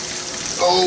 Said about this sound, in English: then I just start the water running